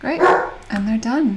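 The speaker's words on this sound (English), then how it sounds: "That's my dog in the background." A dog barks in the background, a couple of short yips and whimpery barks mixed under a man's nearby speech.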